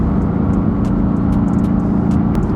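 Mercedes-AMG GT S Edition One pulling up to highway speed, a steady close engine drone with road and wind noise, even and sustained without obvious revving peaks.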